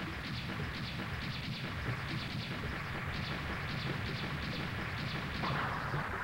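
A clown boss explodes in Mega Man X3 as a continuous, loud, crackling rumble of rapid blasts, steady throughout.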